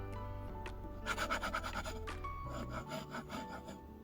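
A lower priced glass dip pen scratches across paper, a soft continuous rasp with light strokes, close up and alone under a faint steady background hum.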